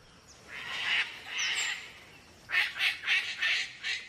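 A parrot in an Australian rainforest gives harsh, raspy squawks: two drawn-out calls, then a quick series of five shorter, pulsing ones, loud and close.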